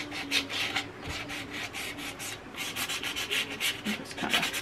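Gritty sandpaper works across a DIY wooden bread board in quick back-and-forth strokes, a close, rhythmic scratchy rasp with no speech.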